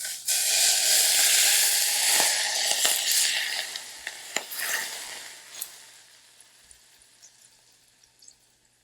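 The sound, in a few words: hot oil sizzling poured over green onion and ginger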